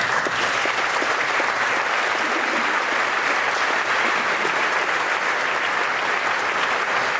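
Steady, sustained applause from a large audience at the Tuskegee Airmen F-16 dedication ceremony, a full wash of many hands clapping with no talk over it.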